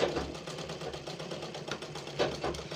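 A domestic sewing machine runs steadily while stitching fabric during a beginner tailoring lesson, a continuous close mechanical whir with rapid needle ticking and a couple of brief louder bursts.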